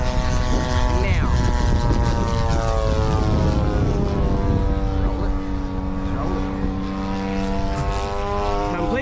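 A radio-controlled P-47 Razorback model airplane flies aerobatic maneuvers, its propeller engine a loud, continuous buzzing drone that rises and falls in pitch as it passes, with a voice faintly behind it.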